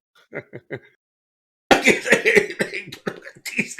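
Several short coughs, then a burst of loud coughing and throat noises, close and harsh, with a pause of silence in between.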